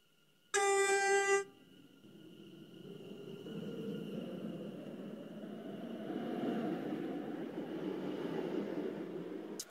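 A short horn blast sounds, then a train rumbles past a station platform without stopping in the game SCR, its steady roar swelling and holding as it goes by.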